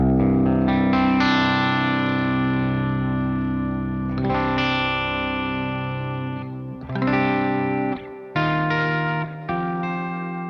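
Electric guitar played through a Peavey Invective amp with a full humbucker pickup, gain at halfway and highs boosted, ringing out sustained distorted chords at a steady loud level with a few brief breaks.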